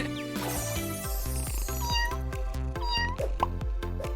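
A cat meows several times, short rising and falling cries over bouncy, rhythmic music with a steady beat.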